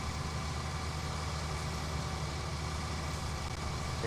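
A tractor engine in Farming Simulator 19 runs continuously with a steady low rumble, unchanging and moderately loud with no voices.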